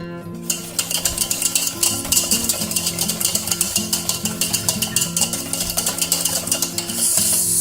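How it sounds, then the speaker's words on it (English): Pancake batter being stirred in a bowl, a steady rapid run of scraping, clicking strokes up close, continuous and fairly loud with no talking. "just mix it up. Mix it until it's well combined"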